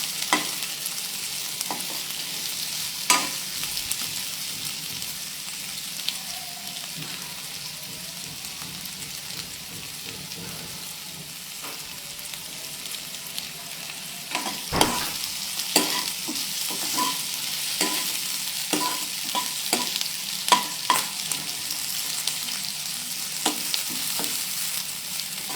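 Food frying and sizzling in a pan while being stirred until light brown, with a steady broadband hiss and frequent scraping clicks of the spoon against the pan throughout, close and moderately loud with no talking.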